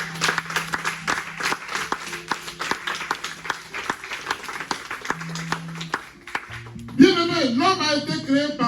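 A church congregation claps steadily and rhythmically over sustained keyboard notes. Voices rise louder near the end.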